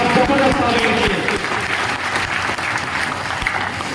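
An audience at a school achievement celebration claps loudly for their parents in a sustained burst of applause, with a voice talking over the clapping.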